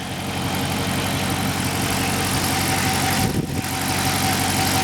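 A 2019 Dodge Charger PPV highway patrol car with a 5.7 HEMI V8 and rear-wheel drive idles steadily, heard close up from the open engine bay as an even, low rumble with one brief disturbance partway through.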